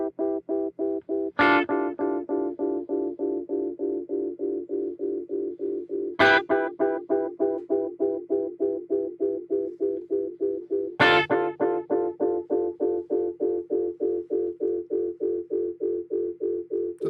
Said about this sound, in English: now that echoing thing that's happening in the background